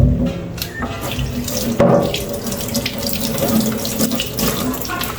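A running kitchen tap splashes while garlic, pimento, shadow benny leaves, chive and onion are washed under it, a steady close rush of water with small shifts in the stream.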